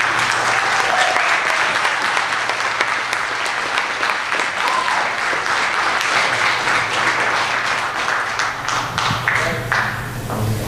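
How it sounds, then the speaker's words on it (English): Sustained applause from an audience, many hands clapping in a dense, steady wash for about ten seconds, tapering slightly at the end. "Let's give them another round of applause"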